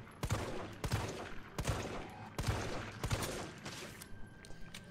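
Gunfire in Resident Evil 3, a string of sharp, loud shots in uneven bursts, several rapid cracks close together with short gaps between them, with no talking over it.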